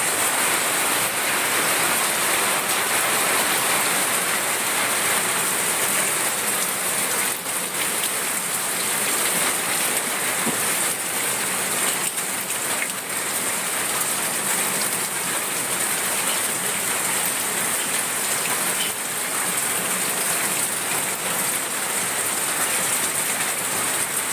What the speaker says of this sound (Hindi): हमारा इसकी थोड़ा सा बारिश आ रहा है, बारिश की वजह से हमारा जो आवाज़ का क्लियरिटी है वो अच्छी तरह से बन नहीं पा रहा है